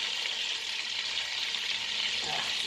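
Butter melts in a pan with Italian seasoning, giving a steady, bright sizzle and frying hiss at close range, constant throughout with no talk.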